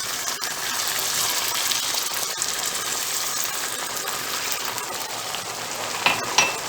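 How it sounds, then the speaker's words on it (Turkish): A glass of hot water poured into a pot of rice for tomato pilaf gives a steady, close gushing hiss lasting several seconds, ending with a couple of brief splashy bursts. "Şimdi aynı pirinci ölçtüğüm bardakla bir bardak sıcak su koyuyorum."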